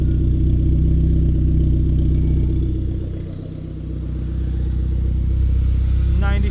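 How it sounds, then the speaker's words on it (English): A Dodge SRT-4 with its charge pipe removed idles through a side exit exhaust, a loud, steady, low rumbling drone that dips briefly midway and then picks back up, with no talking. "The side exit exhaust"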